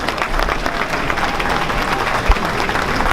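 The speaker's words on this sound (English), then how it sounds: "Give him a round of applause." A gala audience at Morgan State applauds the event sponsors, giving loud, dense, continuous clapping from a large crowd throughout.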